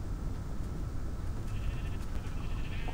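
Sheep bleating in a Minecraft farm scene, a steady blocky game bleat sitting over a constant low background hum, moderately loud, with no talking.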